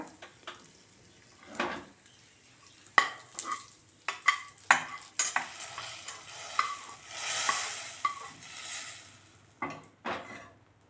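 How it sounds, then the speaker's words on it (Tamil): A spoon scrapes and stirs nuts in a pan with soft sizzling before they go into poha milk kheer, intermittent clinks and scraping strokes close by, no talking. "அதில் போட்டு ஒரு கிளறி அப்படியே பாயசத்தில் சேர்த்துடலாம்."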